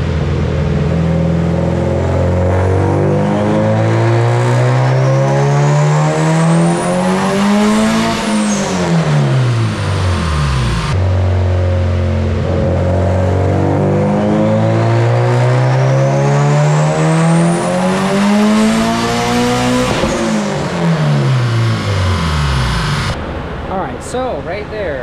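Turbocharged Honda D16Y8 engine in a Civic EK coupe revving hard on a dyno, loud and continuous, climbing through two long full-throttle pulls to boost cut with a rising whine, then dropping off.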